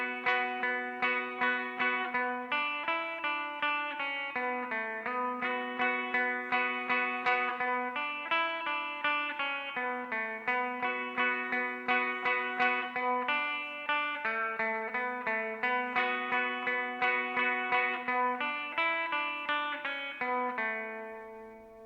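Electric guitar picking out a tune at a slow tempo, a steady stream of clean plucked notes with light effects and reverb, played alone and evenly loud throughout.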